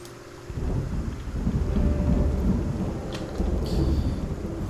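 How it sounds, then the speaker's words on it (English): Rainfall with rolling thunder in the zombie survival game Project Zomboid, a continuous moderate downpour hiss with low rumbles building and swelling across the whole stretch, no voices. "the rain's coming down. It's not super heavy, but there is thunder."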